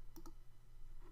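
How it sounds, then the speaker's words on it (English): Two quick mouse clicks sound close together, soft and near, followed by a faint third click in an otherwise quiet room. "click super fun"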